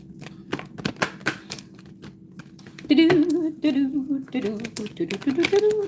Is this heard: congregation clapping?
no